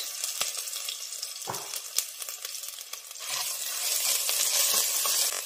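Cinnamon, cloves, cardamom and ginger garlic paste sizzle in hot oil in a pan for a mushroom curry, a close, steady crackling fry that swells louder toward the end with a few sharp spatters and stirring taps.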